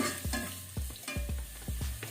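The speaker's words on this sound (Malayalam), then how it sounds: "ആദ്യം വെളുത്തുള്ളി ഇട്ട് കൊടുക്കാം." Garlic frying in a pan is stirred with a spoon, producing quick, rhythmic scraping strokes roughly every half second over a low, steady sizzle, close and moderately loud.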